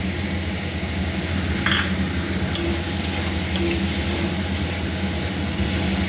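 Vegetable dal being stirred in a pan with a steady sizzle and a few scraping strokes of a spoon against the pan, close and continuous, no voices.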